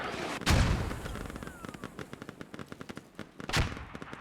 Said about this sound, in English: that's got to be enemy mortars right there